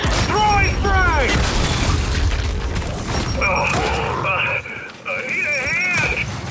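Frag grenade blasts boom loudly in a video game, several explosions layered with clanking mechanisms and gunfire while voices shout over the action.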